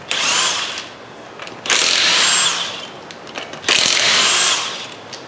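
Power tools on a 5th-generation Ford Mustang wheel during alignment work, two loud bursts of high-pitched whirring, one at the start and one after a pause, each running about a second or two, alone without talk.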